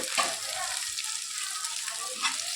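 Cabbage and onion for Hakka noodles fry in a hot pan with a constant bright sizzle, close and even, with a couple of sharper crackles.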